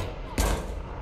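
A World War II tank fires its main gun in the video game Hell Let Loose: one sharp, heavy boom with a low rumbling tail, close and loud against a steady background drone.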